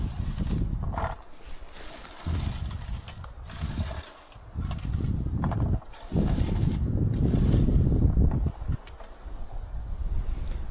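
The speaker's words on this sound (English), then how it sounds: "Wind is nice though." Strong outdoor wind gusts buffet the microphone, rising and falling in heavy low rumbling surges while picking bilberries in the open, with no one speaking.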